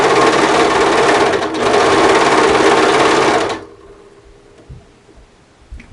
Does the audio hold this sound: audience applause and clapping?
no